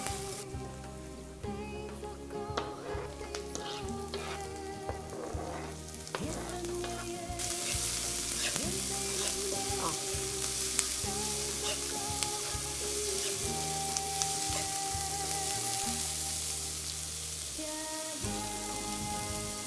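Mushrooms and onions sizzle and crackle steadily in a frying pan, a dense continuous hiss with small pops and stirring clinks throughout, with no voices.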